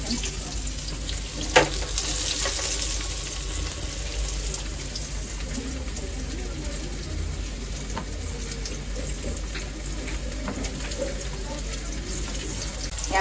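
Black pomfret fish frying in hot oil in a pan for an Agri Koli-style fry, a steady, moderately loud hiss and sputter with a faint voice at times.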